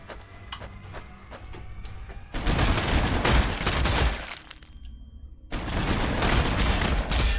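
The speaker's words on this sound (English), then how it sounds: "The super cannon is accidentally punching holes in my wall." Rapid, loud bursts of super cannon fire in Warhammer 40,000: Sanctus Reach in sustained volleys, broken by a brief lull before the barrage resumes.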